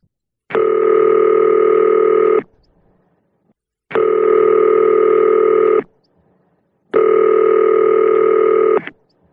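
A telephone rings ahead of a radio show's voicemail greeting, three long electronic ring bursts of about two seconds each separated by short silences, loud and clear with no voices.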